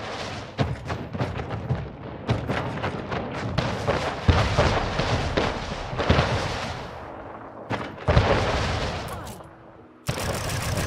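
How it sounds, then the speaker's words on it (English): Heavy harbor gun fire in the strategy game Anno 1800, a dense run of booming shots and rumbling impacts over nearly eleven seconds, loud and continuous with brief pauses near the end. "Because it's gonna be hit by the harbor gun."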